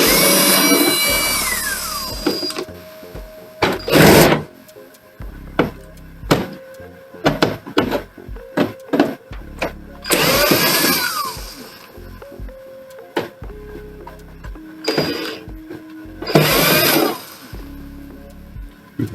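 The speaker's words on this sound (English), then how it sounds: "I'm going to get the screws out." Screws being removed from a Kyocera printer during a C3100 error repair, with intermittent whirring bursts of a power screwdriver, clicks and handling knocks of plastic parts, close and alone.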